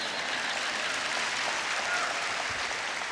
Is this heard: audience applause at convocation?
yes